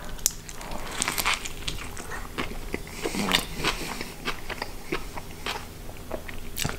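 Close-up biting and chewing of a Turkish pizza with lamb shoarma, red onion and tomato, with crisp crunches and wet mouth sounds repeating steadily at a moderate level.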